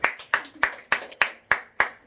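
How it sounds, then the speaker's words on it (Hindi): Seven sharp, evenly spaced claps at a steady rhythm, close and crisp, from an audience clapping in unison at a talk. "ताली बजाओ।"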